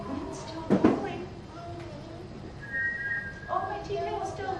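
A person whistles a faint, thin tune at moderate distance, with brief louder knocks and a voice-like burst near the start amid quiet room noise.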